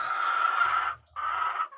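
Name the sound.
chickens with colds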